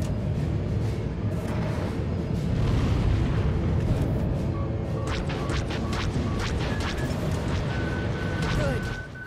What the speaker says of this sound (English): Target ship launching missiles.